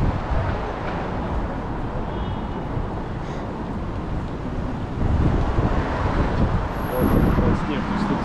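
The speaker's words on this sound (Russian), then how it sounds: "сейчас ветрено" Gusty wind buffeting a microphone outdoors in Moscow on a snowy day, a steady loud rushing roar with low rumble throughout that surges stronger partway through, with possible traffic underneath.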